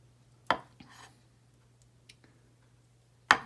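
A knife cuts a bell pepper on a cutting board, giving two sharp chops about three seconds apart with softer taps in between, close and fairly quiet, with no voices.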